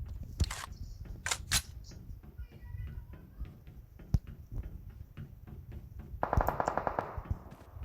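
Gunfire in the mobile battle royale video game Free Fire, bursts of automatic shots and single cracks scattered through the clip, with a short rapid volley near the end.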